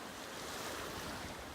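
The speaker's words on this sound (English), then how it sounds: "There hadn't been waves all day until that boat came through." Low, continuous wash of small waves rolling in from the wake of a passing fishing boat, soft and steady with a breezy rush and no voices.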